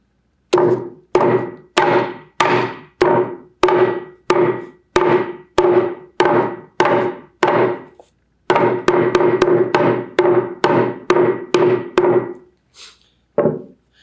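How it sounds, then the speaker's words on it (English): A hammer pounds flowers laid between layers of paper to stain them, a close run of about twenty sharp, evenly spaced thuds with a short pause midway before the blows resume faster and end with a few lighter taps. "go ahead and summon your hammer and begin pounding."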